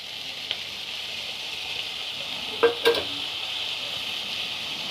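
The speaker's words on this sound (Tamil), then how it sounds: "வெங்காயத்தை வந்து நல்லா பொன்னிறமாக்கிற வரையும் வறுத்துக்கலாம்." Onions fry in a pan for egg podimas, giving a steady, even sizzle throughout with a couple of brief clinks from a spoon stirring partway through, no voices present.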